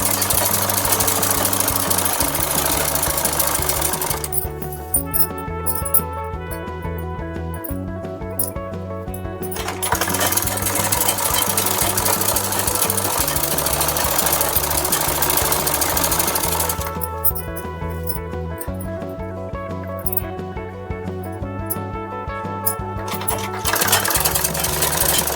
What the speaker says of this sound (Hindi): इस तरह से हाफ इंच छोड़ दें आप, बाकी में सिल लें पूरे प्लाजो को। दोनों ही पैर को अच्छे से सिल लें।